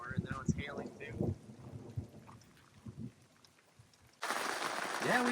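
Rain and hail pour down during a storm in the Colorado backcountry, a loud steady wash of noise that starts suddenly near the end, after a stretch of people talking.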